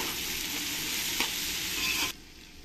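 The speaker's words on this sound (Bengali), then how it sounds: "পেঁয়াজের সঙ্গে একসঙ্গে আমি ভেজে নেব।" Chopped onions and slit green chilies sizzle steadily in a hot pan with oil for a biryani, a close, continuous hiss with a brief stirring scrape, cutting off sharply near the end.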